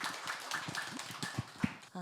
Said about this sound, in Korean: 여러분 다시 한번 환영의 박수 한 번만 더 쳐주십시오.